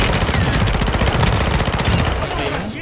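Sustained machine gun fire in the video game Warzone, a fast rattling stream of close, loud shots running nearly unbroken before trailing off.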